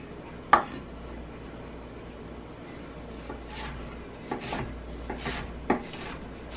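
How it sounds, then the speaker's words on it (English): A knife chopping ingredients into small pieces on a board in a home kitchen while making turkey burgers, with a few sparse taps and scraping strokes, fairly quiet with gaps between cuts. "chop it into really small pieces"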